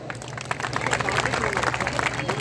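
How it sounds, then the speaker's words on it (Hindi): Enthusiastic applause from a kirtan audience for the musicians and sound crew, a dense, steady wash of many hands clapping with crowd murmur mixed in, sustained at a moderate level. "म्यूजिशियन और साउंड के लिए जोरदार ताली"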